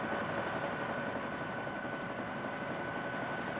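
Helicopter rotor and engine drone during the 1972 siege of Kontum, a steady, even whir with a thin high whine sustained throughout, no voices.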